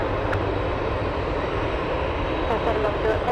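Boeing 747 jet engines at an airport, a steady broadband roar that holds continuously throughout, with faint voices underneath.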